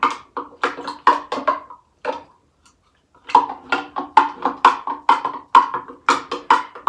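A spoon clinks steadily against a glass while stirring chocolate syrup into milk, giving bright rhythmic taps in quick runs with a brief pause partway through.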